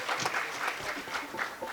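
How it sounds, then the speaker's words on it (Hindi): An audience at a Haryanvi comic poetry show claps for Krishna Gopal Vidyarthi, a short burst of dense, mid-distance applause with no talking over it. "एक बार विद्यार्थी जी के लिए तालियां"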